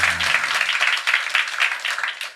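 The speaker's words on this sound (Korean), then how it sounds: "하나님께 영광의 박수 한번 크게 치죠" A church congregation applauds loudly during a Sunday afternoon worship service, a dense, lively burst of many hands clapping that stays full throughout and is briefly led in by a low voice.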